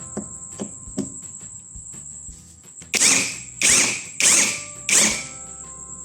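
A Lucid LH-500 electric impact wrench with a hex bit unscrews in a workshop. It starts with quick light ticks and then gives four loud rattling hammering bursts at an even rhythm, each about half a second long, over a constant high-pitched motor whine.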